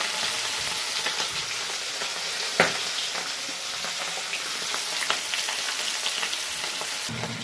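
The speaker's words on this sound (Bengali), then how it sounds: "মাছগুলি ভাজা হয়ে গেছে" Fish pieces frying in hot oil in a wok, a steady close sizzle with occasional sharp pops and crackles, one louder spatter near the middle, no voices.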